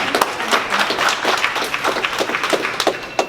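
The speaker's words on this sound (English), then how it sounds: "please give them a round of applause" An audience at a celebration event applauds loudly and steadily, with dense overlapping hand claps for several seconds.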